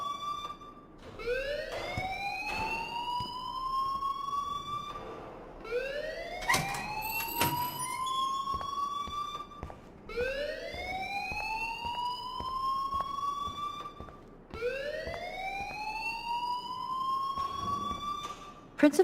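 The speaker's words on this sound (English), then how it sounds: "please turn off that alarm since that's your job" In the video game Life is Strange, a siren-like alarm repeatedly sweeps upward, four rising wails a few seconds apart, with a sharp clatter between two of them, heard fairly quietly.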